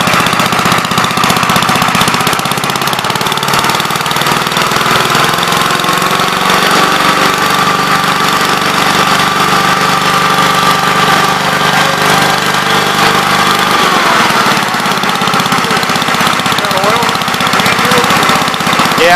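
A 42 L engine being run for the first time without a throttle cable, a loud, steady rattling drone that holds constant throughout with a rough, knocking texture, voices faintly underneath.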